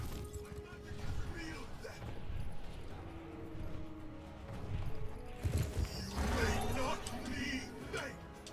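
Horse whinnies and clip-clopping hooves from a video game, mixed with game effects and music while a person talks over the top throughout.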